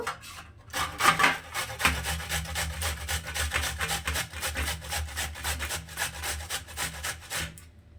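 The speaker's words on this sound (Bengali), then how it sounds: "এখন এখানে আমি একটা ঘষনি নিয়ে নিয়েছি ঘষার তো বিটরুটটাকে আমি এখানে একটু ঘষে নেব" Peeled beetroot rubbed against a hand grater, giving a steady run of rapid rasping strokes, close and fairly loud, continuing throughout with no talk.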